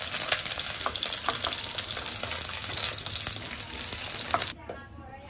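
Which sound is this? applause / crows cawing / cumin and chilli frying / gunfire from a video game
cumin and chilli frying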